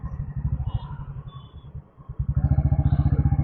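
A Royal Enfield Bullet motorcycle rides along a road, its engine thumping in a fast, even beat. The sound dips briefly in the middle, then returns louder and close by.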